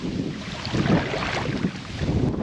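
Strong wind blowing across the Mobile Causeway, a rough gusting rush buffeting the microphone, swelling and easing in waves with a water-like wash underneath, no talk.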